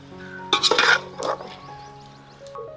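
A spoon clinks and scrapes against a pot as jackfruit biryani masala is stirred, with a few sharp metallic knocks early on, then quieter scraping.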